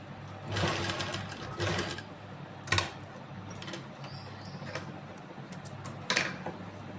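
Sewing machine stitching corded piping onto fabric in several short bursts, with ticking and clicking between runs, close and fairly loud with no talking.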